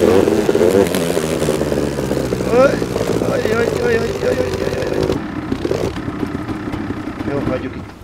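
A buggy motorcycle engine in the Nether in a video game, a loud, continuous buzzing drone that shifts pitch, with someone talking over it.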